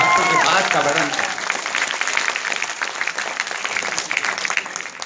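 A hall audience claps together at an NSS event, loud dense applause that starts at full strength and holds steady throughout, with a voice briefly audible at the very beginning.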